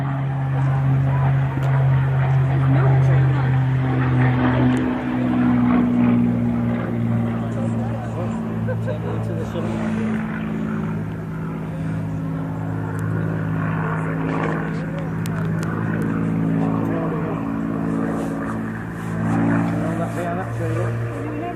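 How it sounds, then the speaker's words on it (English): During a WW2 reenactment, an aircraft makes a low flyby. Its engine drones loudly and steadily, then slowly fades, while someone talks over it. "He's going for a low flyby now, guys, so give him the wave again, please."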